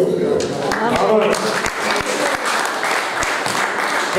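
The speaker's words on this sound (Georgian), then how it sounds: "აი ეს იმსახურებს აპლოდისმენტებს მეუბნებიან." An audience applauds at a public gathering, with a thick, continuous patter of clapping throughout and a few sharper individual claps standing out.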